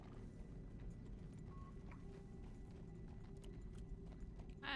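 Horse hooves clip-clop steadily in a Western roleplay video game, a continuous close rhythm of hoofbeats over low ambient rumble, with no talking.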